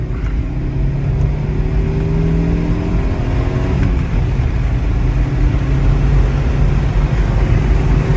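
A Saab 9-5 Aero engine pulling at full throttle, a loud, continuous rising drone with climbing whine tones, the pitch sweeping upward, then a brief shift before it builds again, heard from inside the car.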